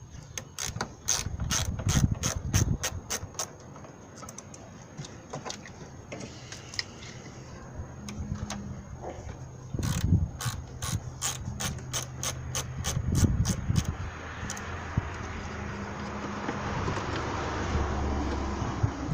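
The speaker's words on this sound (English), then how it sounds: "Now you can use 8mm to go ahead and disconnect your battery cables." An 8mm ratchet socket loosens the battery cable terminals on a 1999 Ford Expedition. Close, rapid bursts of ratchet clicking come in several runs, with quieter pauses between them.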